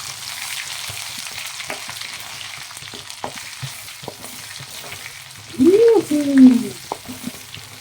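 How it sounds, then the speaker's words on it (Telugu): Ginger fries in a pan for chicken pickle, a soft steady sizzle with light stirring scrapes, joined near the end by a brief louder voice. "మళ్ళీ అల్లం వేసినట ఈ అల్లాన్ని బాగా కలపాలి."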